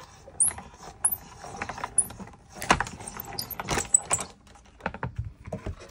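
A manual die-cutting machine cranks cutting plates with paper through for a holiday wreath card, giving close, uneven ratcheting clicks, creaks and mechanical rattles with a few sharp squeaks.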